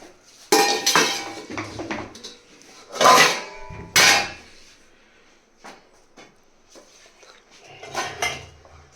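Sesame chikki mixture being quickly mixed and spread into two plates, heard as a few loud metallic clanks and scrapes of utensils on pots and plates, separated by quieter pauses and softer scraping.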